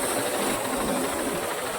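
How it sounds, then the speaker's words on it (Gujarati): A steady tractor engine hum and hiss, the tractor rigged to drive a motor on a farm, runs continuously at an even level, close by and fairly loud. "ટ્રેક્ટરમાં મોટર લગાડી દીધી છે જોજો"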